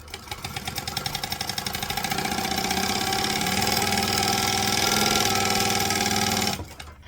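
A sewing machine top stitching fabric runs steadily for several seconds, its rapid needle rhythm climbing slightly in speed, then stops abruptly near the end.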